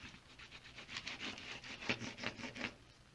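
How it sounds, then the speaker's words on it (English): The side of a chunky crayon rubs over a textured plate, giving soft, close, scratchy strokes in an uneven back-and-forth rhythm, quiet and without voices. "Then you're going to use the side of the crayon."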